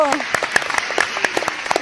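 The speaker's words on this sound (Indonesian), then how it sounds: "tepuk tangan dulu." Brief applause from an audience at an outdoor Indonesian poetry talk show, a scatter of uneven claps with a few louder hand slaps over a bed of murmuring voices.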